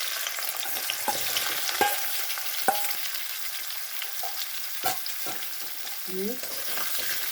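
Sweet potatoes go into a pan of oil with fried five-spice seeds and are stirred, giving a soft constant sizzle broken by sharp scraping and clacking strokes of the spatula; a brief spoken word is heard.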